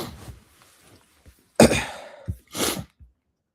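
A few sharp, breathy bursts, allergy sniffles or a short cough, come close and loud after a soft muttering voice.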